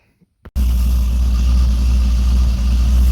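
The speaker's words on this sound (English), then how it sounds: "the only thing I have to do is start the car up and try it out" A Cadillac CTS-V with QTP exhaust cutouts closed fires up after a couple of faint clicks, then settles into a loud, steady, deep idle rumble close by.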